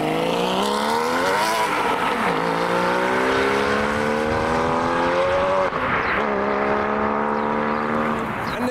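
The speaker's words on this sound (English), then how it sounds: "The Mark IV Supra, automatic, and naturally aspirated as well" A naturally aspirated automatic Toyota Mark IV Supra accelerates past, its engine note climbing steadily through two gear changes and staying loud and close throughout.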